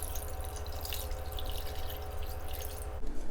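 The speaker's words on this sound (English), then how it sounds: "Add cold water to cold wings." Cold water runs from a tap into a pot of duck wings, a steady, moderately quiet stream with dripping and splashing that shifts near the end, with no voices.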